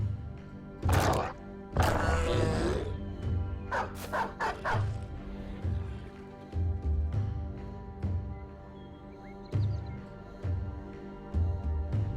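Dogs bark and yip in a Battle Brothers battle, several sharp close barks in bursts among thuds and combat noise, with occasional whimpers between them.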